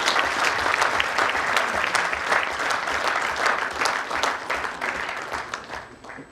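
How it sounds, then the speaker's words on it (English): A conference audience breaks into sustained applause, a loud, dense wash of many hands clapping close by that gradually tapers off toward the end. "let us give him a big round of applause"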